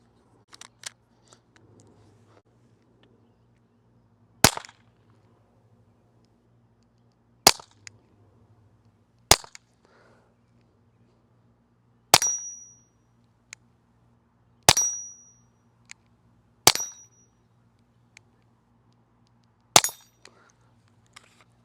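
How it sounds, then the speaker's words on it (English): Eight sharp shots from a suppressed .22 LR North Reach Micro-Pew crack one at a time, spaced a few seconds apart, first into dirt, several followed by a bright metallic ping from a struck steel target. "I'll do a few shots just down into the dirt, and then we'll do a few on the steel target"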